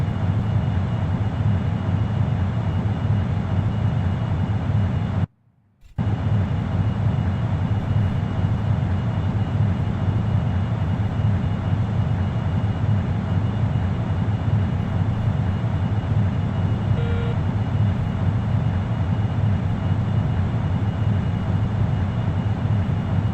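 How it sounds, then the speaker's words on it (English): Scramjet engine of a DG-S spacecraft flying at high altitude near Mach 6.7 in the Orbiter 2016 simulator, a loud, steady roar that drones on with no voices and cuts out completely for a moment early on. "we've now lost quite a bit of power in our scramjet because we went too high too quick"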